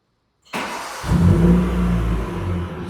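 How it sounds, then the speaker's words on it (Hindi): A Maruti Gypsy that has stood idle for several days cold starts, then settles into a loud, steady, rough idle close by, with no talk. "चलो थोड़ा सा 2 मिनट का कोल्ड स्टार्ट होने देता हूँ, कई दिन से खड़ी है ना"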